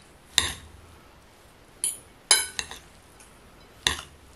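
A spoon clinks against a bowl while a bulgur and vegetable patty mixture is stirred, with several sharp, separated metallic taps over a quiet background.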